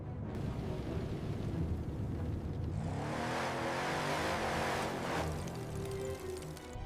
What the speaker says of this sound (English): Oh no. The car is stuck now. I can't drive anymore.